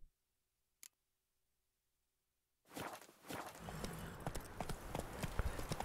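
Hooves of a horse in The Witcher 3 video game, a rhythmic clip-clop that starts after a near-silent stretch and continues steadily, moderately loud over faint background ambience.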